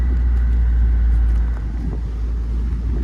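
A 2001 Saab Viggen turbocharged engine drones with a deep, steady low rumble, building under load with a faint whine, heard from inside the car with no talking.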